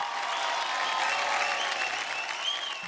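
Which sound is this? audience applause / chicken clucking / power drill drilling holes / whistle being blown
audience applause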